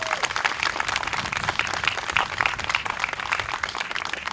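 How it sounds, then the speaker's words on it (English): Audience at a Juneteenth ceremony in a town hall gives a round of applause, a steady, even patter of many hands clapping at moderate volume with no voices above it. "Can we get another round of applause"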